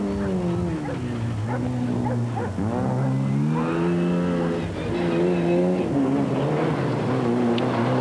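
A Mitsubishi Lancer Group N rally car engine revs on a rally stage at the 1995 Boucles de Spa, loud rising and falling engine tones with gear changes, close and sustained throughout.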